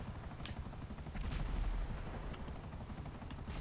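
Video game helicopter rumbling steadily with scattered gunfire bursts, a heavier low-frequency swell in the middle of a busy battle soundscape.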